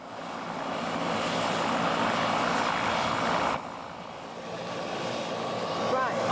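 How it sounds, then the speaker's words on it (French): A helicopter arrives over the Greenland ice sheet, its steady, roaring rotor and engine noise filling the air before dipping slightly partway through and then building again. "L'arrivée de l'hélicoptère met toute l'équipe en transe"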